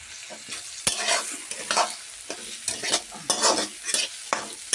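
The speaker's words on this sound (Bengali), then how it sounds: "এবারে ডালটা ঢেলে দেবো" Dal is poured into spices frying in a pan and stirred, giving bursts of loud hissing sizzle and repeated scraping strokes in an irregular rhythm, close up with no voices.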